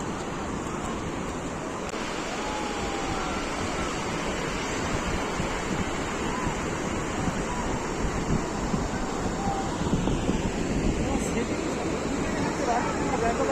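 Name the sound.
sea waves on the beach at Digha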